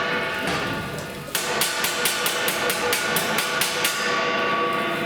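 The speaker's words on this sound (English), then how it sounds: "So if I hammer this out, hopefully it ends up being between curved this way" Hammer blows strike the flange of a stainless steel outdoor kitchen counter, about ten sharp metallic hits at a steady rhythm, close and loud over faint background noise.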